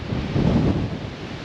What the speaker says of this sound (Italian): È tornato il vento patagonico